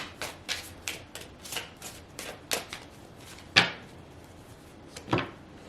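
Oracle cards are shuffled close by in a quick series of soft riffles and taps, with a couple of sharper snaps of cards landing.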